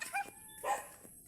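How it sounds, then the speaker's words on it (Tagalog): A dog gives two short, quiet yipping barks about half a second apart, with faint background noise between them. "May aso."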